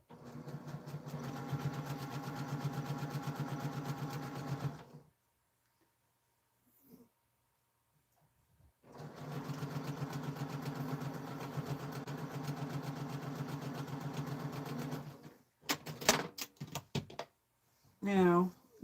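A domestic sewing machine chain pieces quilt blocks in two long runs of steady, close motor whirring and rhythmic needle chatter, separated by quiet pauses, with brief handling clicks and snips near the end.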